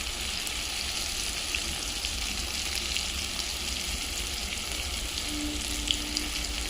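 Ginger paste and ground spices frying in a pan for banana flower curry, a steady close sizzle with faint stirring clicks and no talk.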